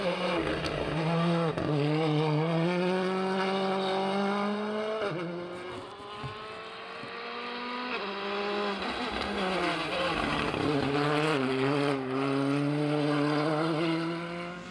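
A rally car on a special stage over Knockalla at the Donegal International Rally, heard from onboard, its loud engine revving hard with rising pitch sweeps and sharp dips at gear changes across the whole stretch.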